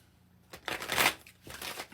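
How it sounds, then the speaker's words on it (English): A deck of tarot cards is shuffled up close, giving two quick riffling bursts of papery flutter that are heard on their own. "We're shuffling the deck"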